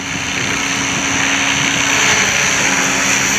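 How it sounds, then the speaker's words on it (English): A Gaui 550 electric RC helicopter flying with a Hobbywing Platinum Pro 100 amp ESC, a steady close whine and broadband rotor whoosh, smooth and unbroken throughout. "this is the Gaui flight 200, and it's just as smooth and as quiet"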